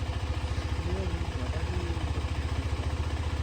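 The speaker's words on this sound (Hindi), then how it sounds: "कोल्ड स्टार्ट कर दिया मैंने अपनी गाड़ी, इन्होंने अपनी बाइक" A car and a motorbike idle after a cold start on a high-altitude Ladakh road trip, a steady, close, rhythmic low engine thrum running the whole time.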